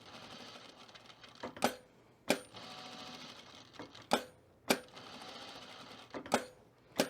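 Sewing machine stitching thick fleece for a hedgehog pet toy, heard up close: runs of steady whirring stitches broken by several sharp clicks and knocks, with no talking.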